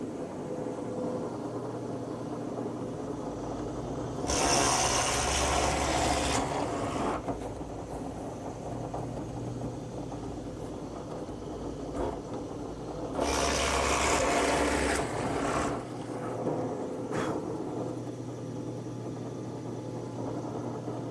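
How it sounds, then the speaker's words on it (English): Two bursts of harsh grinding as a drill press's Forstner bit bores into a wooden fence stringer, over the steady hum of the running machine, each lasting a few seconds. "I've set up my drill press with a Forstner bit"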